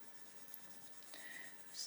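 A coloured pencil scratches faintly and steadily across paper while a glass-studded pot is coloured in an adult colouring book, growing slightly louder toward the end.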